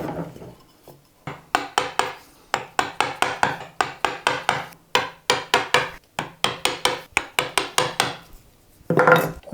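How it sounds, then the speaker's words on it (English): A chisel is struck repeatedly into a wooden workpiece, chopping about 5mm down along a marked line for a cross halving joint. The sharp, close knocks come in quick bursts separated by short pauses. "Then put the chisel into the line and chop around 5mm down."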